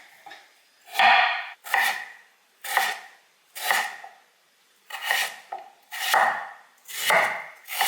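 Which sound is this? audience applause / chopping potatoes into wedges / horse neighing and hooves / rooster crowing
chopping potatoes into wedges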